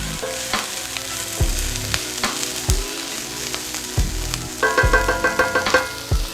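Onions sautéing in a pan make a loud, close sizzle broken by rhythmic scraping and clanking stirs that grow busier toward the end, with no talking.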